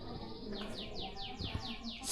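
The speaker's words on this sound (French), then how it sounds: "là t'as des petites cages à oiseaux." Small caged birds chirp within the palace complex in Yogyakarta, a run of about six quick, evenly spaced high descending tweets over a steady murmur of background ambience.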